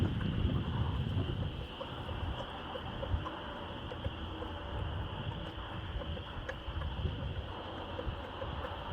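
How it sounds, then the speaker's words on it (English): Early March wind blows steadily beside an outdoor chicken run, a rough, gusting rumble buffeting the microphone and continuing for the whole stretch, with no voices. "First week of March and the wind is kicking in."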